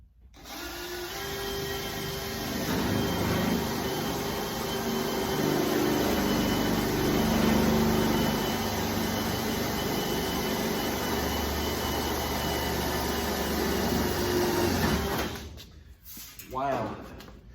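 Power drill driving screws into the floor decking of a 1966 Nova interior, a long steady whirring grind up close that labors through most of the stretch before cutting off, followed by brief handling knocks and a voice talking.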